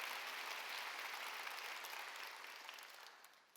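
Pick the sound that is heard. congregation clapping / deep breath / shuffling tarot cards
congregation clapping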